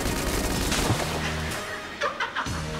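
Gunfire in the Enter the Gungeon video game, a dense stream of rapid shots mixed with game effects and tones, busy and continuous, with several sharper bursts toward the end.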